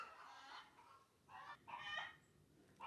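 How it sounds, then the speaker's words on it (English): Chickens clucking nearby in a few short, agitated bursts separated by brief pauses, with no talking. "the chickens were making a real ruckus"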